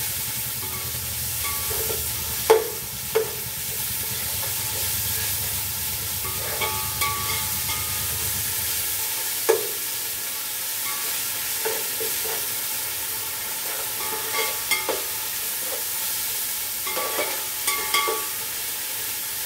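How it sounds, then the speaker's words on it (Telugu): Spices for chicken biryani fry in a pan with a continuous sizzling hiss, punctuated every few seconds by the clack and scrape of a spoon stirring, with no voices. "ఇది కూడా బాగా ఫ్రై చేసుకోవాలి"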